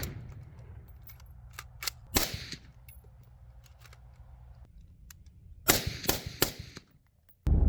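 Sharp rifle reports from green tip rounds: a few scattered cracks early, then a tight cluster of several shots near the end, with quiet gaps between.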